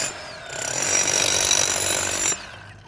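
A loud, steady hammering drill pounds continuously for about two seconds, then cuts off abruptly.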